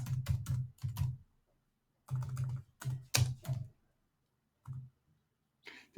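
Several bursts of keystrokes on a computer keyboard as a name is typed, close and clear, separated by short pauses, with a few isolated clicks toward the end.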